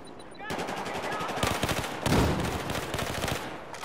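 Rapid bursts of automatic F2000 assault rifle fire in Battlefield 4 crackle continuously, loud and close, with a synthetic game-like quality and no speech over them.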